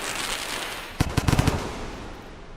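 Rapid burst of sharp explosive pops in the video game Rain World, a cluster of five or six quick bangs over half a second against a steady background hiss, then fading.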